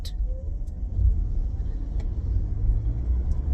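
Steady low engine rumble and road noise from inside a moving car, continuous and fairly loud throughout, with no voices.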